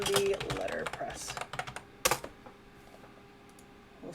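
Someone types rapidly on a computer keyboard, producing a quick run of sharp clicks that tapers off toward the end, with faint room noise underneath.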